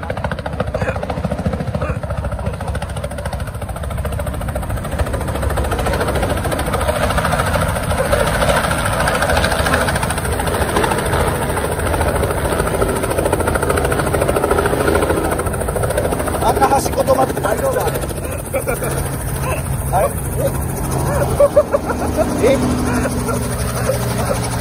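A helicopter's steady rotor and engine drone fills the scene continuously in the Philippines, with people talking over the noise.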